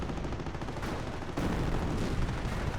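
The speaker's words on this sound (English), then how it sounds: "Incendiary mortar there" Incendiary mortar fire in the Company of Heroes 1 video game: a dense, continuous crackle of bursts and rumbling explosions, loud throughout and stepping up in intensity partway through.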